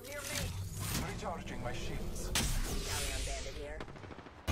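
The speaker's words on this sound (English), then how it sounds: "I'm shooting all the gas tanks." In a video game shootout, rapid gunfire bursts and impacts ring out as gas tanks are shot, with crackling, explosive noise and a sharp blast midway, while players talk excitedly over the action.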